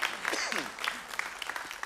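A church congregation gives a round of applause during a sermon, a dense patter of clapping at a moderate distance with faint voices mixed in.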